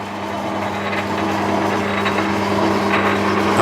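A shell mill in back gear grinds steadily through a cast iron block, a continuous loud machining drone with a low hum and no breaks, with no voices.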